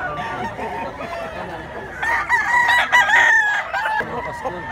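A gamecock, a Popeye Grey and Kelso Roundhead cross, crows loudly and close by in a long, shrill call, with other fowl clucking around it and voices talking faintly in the background.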